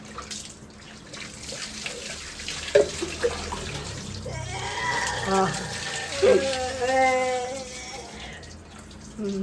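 Running water splashes steadily with a couple of sharper splashes as hair is washed, while a person talks over it close by.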